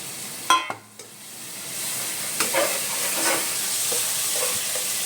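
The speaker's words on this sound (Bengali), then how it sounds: "এবার আমরা ওই পেস্টটা দিয়ে দিলাম। চালমগজ, পোস্ত, কাজু।" Paste of ground melon seeds, poppy seeds and cashews drops into a hot pan: a short clatter, then a steady close sizzle that holds without talk.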